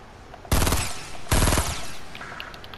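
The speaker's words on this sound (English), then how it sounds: "Shooting at me." Gunfire in the video game Fortnite: two loud, rapid bursts of automatic fire, each lasting about half a second and separated by a short pause, with a quiet game background between them.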